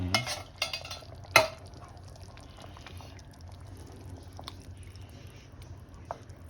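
Canned diced tomatoes splash into a pot of shrimp and sausage étouffée and are stirred in, with a loud clatter early on, then a low simmering bubble and occasional soft spoon clinks.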